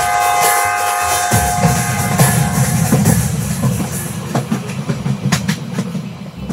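A train running on rails, heavy continuous rumble with rhythmic clickety-clack of wheels over track joints, loud and close, steady throughout with no voices.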